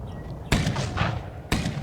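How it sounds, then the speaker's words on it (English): A high explosive artillery round in the Tank Warfare: Tunisia 1943 video game, two sharp booming blasts about a second apart with brief rumbling decay, fairly near. "that's a high explosive round"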